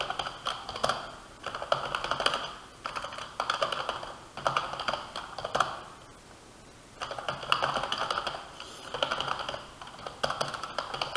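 Code is typed on a computer keyboard in rapid, close clattering bursts of keystrokes separated by short pauses, steady and moderately loud with no talking.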